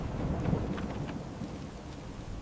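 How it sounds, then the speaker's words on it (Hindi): Heavy rain pours with thunder, a low rumbling roll beneath a steady wash of falling drops, continuous and moderately loud with no voices. "बारिश बहुत तेज है, तुम भी पूरी भीग गई हो।"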